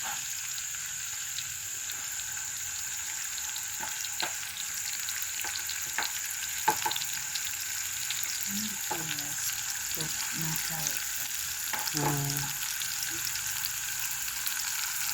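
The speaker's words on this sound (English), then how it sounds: "So the chef says you saute it." Onions sauté in a pan for a cottage pie cooked in a village, giving a steady, even sizzle that runs throughout, with a few scraping stirs of the utensil near the end.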